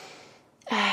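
Sharp audible inhale during a morning sun salutation yoga flow, quiet at first then rising into a loud, close breath at the end, with no talking.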